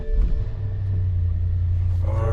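A BMW X5 E70 engine cranks and catches, a low steady rumble settling into idle close by, with a brief rise in revs near the end.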